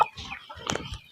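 Native village hens cluck in a short burst of soft, close clucks, with a sharper call in the middle and nobody talking.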